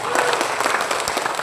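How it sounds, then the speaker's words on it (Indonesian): Applause from an audience at a community celebration opening a neighbourhood sports centre in Semarang, a dense continuous wash of clapping with some crowd murmur beneath. "Wah, tepuk tangan buat Bu Maria"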